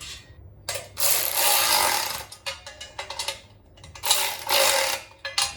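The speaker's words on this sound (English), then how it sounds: "Another washer. Now we screw the nut on." A nut is spun and tightened onto a bolt over a washer, producing close, bright metallic ratcheting and clicking in two longer bursts separated by short ticks, with no talking.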